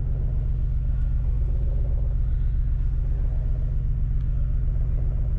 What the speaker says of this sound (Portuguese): Tem alguma coisa pegando ali na ventoinha